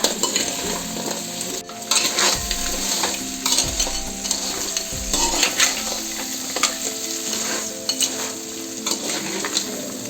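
Crab curry being stirred and mixed in a pan, a steady sizzling fry under repeated scraping strokes of a utensil against the metal, with occasional clinks, continuous and fairly close.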